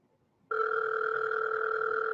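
A telephone ringback tone on a call placed to a Walmart store, one loud steady electronic ring that starts abruptly after a brief quiet pause and holds without talk.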